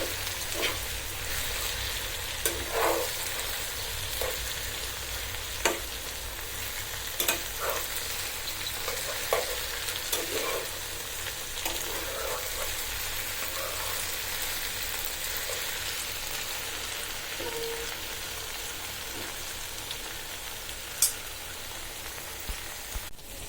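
Okra fries hard in a pan, a dense steady sizzle running throughout with scattered clicks and scrapes as the pieces are flipped over.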